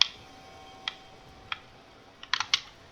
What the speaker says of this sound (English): Nernroot is so weird. It's just so noisy.